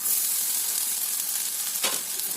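Dry fruits rice goes into a hot pan and fries with a loud, continuous sizzle, a brief stirring scrape cutting in near the end.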